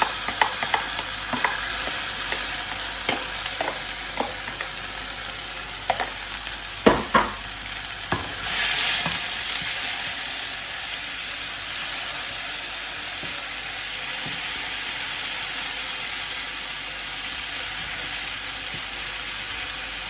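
Onion, garlic and ginger puree roasting in a pan with cumin seeds, a steady close sizzle and frying hiss with a few stirring scrapes early on, no talk.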